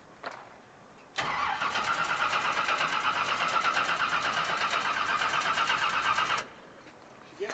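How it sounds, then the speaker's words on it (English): An old car engine cranks over steadily on its first start attempt after sitting, a loud continuous rhythmic churn lasting about five seconds that stops without catching. "We're going to try to fire it up for the first time."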